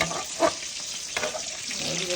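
Katla fish fries in a home kitchen pan with a steady close sizzle and occasional louder spits and bursts over a couple of seconds, with no talking.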